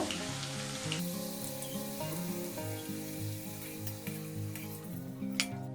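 Papads fry in hot mustard oil, giving a dense, continuous sizzle close to the pan, with a soft clink near the end.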